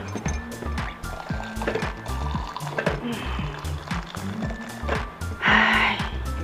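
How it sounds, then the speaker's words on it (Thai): Hot water pours from a kettle into a cup of instant health coffee, a steady liquid splash through most of the stretch that swells briefly near the end, with light background noise and no talk. "น้ำร้อนมา"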